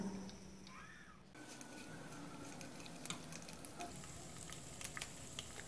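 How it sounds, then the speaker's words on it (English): Mustard seeds, urad dal, jeera and chana dal crackle and sizzle in hot oil for a tempering, a steady close frying hiss with sharp pops scattered throughout. "To make the tempering, add mustard seeds, urad dal, jeera and chenna dal."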